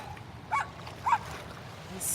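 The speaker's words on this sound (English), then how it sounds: "Who wants a dog?" A dog gives two short yelping barks with a whimpering edge beside snowy falls near a small bridge, while running water or wind hisses steadily beneath.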